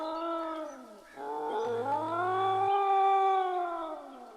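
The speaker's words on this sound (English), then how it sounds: "That sounds like a cat in autumn." A cat yowls in the video game A Wolf in Autumn, one long wavering caterwaul with a brief dip, then rising and sustained, loud and close with no talk.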